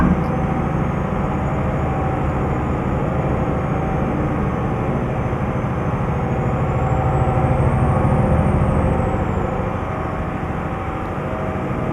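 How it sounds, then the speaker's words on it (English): A truck engine drones steadily and loudly in American Truck Simulator on a cargo run from Kingston, a constant low rumble with a faint whining tone drifting up and down, easing slightly toward the end; no speech. "I do apologise if the truck engine is a bit loud."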